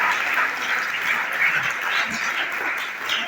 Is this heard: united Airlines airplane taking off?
no